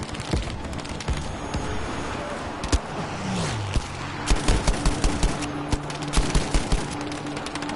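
Rapid bursts of gunfire crackle through a Battlefield V match, with scattered single shots and short automatic volleys repeating irregularly over a dense, noisy battlefield backdrop.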